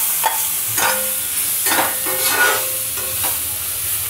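Tomatoes go into a hot pan of fried onions for methi matar malai. A loud, close sizzle runs throughout, broken by rhythmic stirring strokes roughly every half second to second. No voices are heard.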